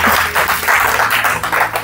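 A church congregation claps and applauds during a sermon, a loud, close burst of many hands in quick rhythmic pulses over a couple of seconds.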